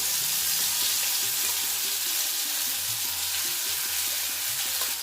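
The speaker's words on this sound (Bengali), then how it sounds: "কড়াইতে তেল দিচ্ছি মশলাটা একটু কষিয়ে নেব" Mustard and poppy seed paste fries in a little oil in a wok, giving a steady, close hiss and sizzle with occasional soft stirring and scraping sounds. No one speaks.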